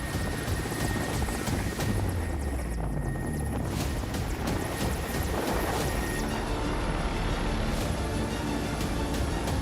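A rescue helicopter during Himachal Pradesh flooding thumps rapidly and continuously, loud and near, with a whining turbine tone over the chopping beat.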